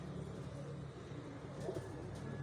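Pigeons being readied for a kabootar bazi flying competition coo softly and steadily amid a low ambient rumble, with a faint car passing in the background.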